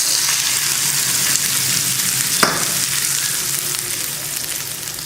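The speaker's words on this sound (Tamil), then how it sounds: "ஆஃப் பண்ணிவிட்டு சட்னியில் ஊற்றிடலாம்" Hot oil with dried red chilli and curry leaves sizzles loudly and continuously as the tempering is poured into chutney, with a brief sharp crackle midway and no talking.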